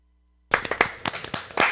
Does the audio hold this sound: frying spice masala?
no